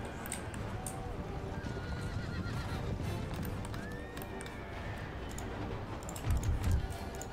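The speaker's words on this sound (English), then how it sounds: "Charge my lance into this regiment of horse." Cavalry horses whinny and hooves clip-clop in a lancer charge into an enemy horse regiment during an Empire: Total War battle, with a dense rumble of battle noise throughout and a louder burst near the end.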